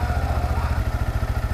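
A Yamaha MT-15 motorcycle engine idles steadily at close range, a rapid even low-pitched thump with mechanical clatter, running during a coolant change at home.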